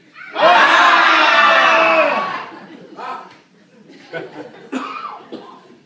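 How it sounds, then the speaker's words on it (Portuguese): An audience at a talk lets out a loud collective shout on a count of three, a sustained roar of many voices lasting about two seconds, followed by scattered laughter and chatter. "a gente vai dar um grito, todos nós."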